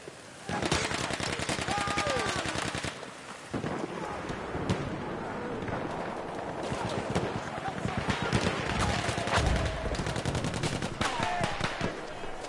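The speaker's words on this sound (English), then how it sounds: "You're hiding away and then you're popping off shots." Sustained video game gunfire as players pop off shots from cover, with dense rapid shots and distant volleys mixed with wind-like rushing noise, steady and moderately loud throughout.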